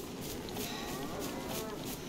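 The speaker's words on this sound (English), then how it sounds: "And hope no one shoots my cow." A cow in a survival video game lets out a long, low, drawn-out moo, moderately loud and alone over a faint background.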